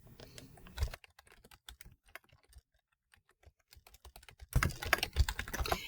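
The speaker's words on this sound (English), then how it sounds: "So I'll just go ahead and type in the labels, and I'm pressing tab." Labels are typed into a spreadsheet on a computer keyboard, with a tab press among them, giving close rapid clicky keystrokes in uneven bursts, a quieter sparse stretch in the middle and a dense flurry at the end.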